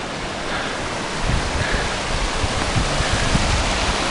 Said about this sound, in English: This is the overflow waterfall from the lake.